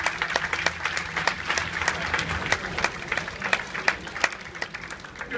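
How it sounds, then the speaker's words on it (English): A theater audience at a hypnotist show aboard the Celebrity Eclipse cruise ship breaks into steady, dense applause, many hands clapping close and loud for the whole stretch. "let's give them all a nice big round of applause"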